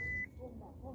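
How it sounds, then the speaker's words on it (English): A Nissan Leaf electric car sounds its reverse warning beep, a steady tone that cuts off and returns, with very little other noise around it. "the only thing I hear now is a beep beep for the reverse"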